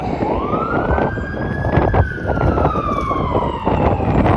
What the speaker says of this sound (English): now the fire truck is heading north.